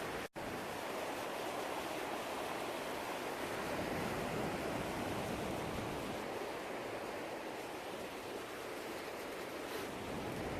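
A river rushes past a snowy campsite near Bansko, Bulgaria, as a dense, steady hiss of flowing water, close and constant with no pauses and no voices.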